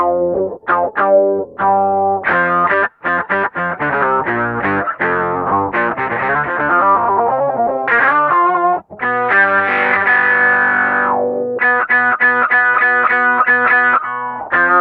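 ROXSYN iOS guitar synth played through a low-pass filter: a quick run of loud, bright synth notes with chorus and distortion, some sustained and bending, others short and rhythmic, no talking.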